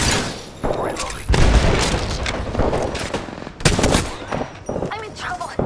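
Rapid bursts of gunfire crack and boom in the video game Apex Legends during a close-range fight on a fortress's second floor, loud and repeated, mixed with game voices.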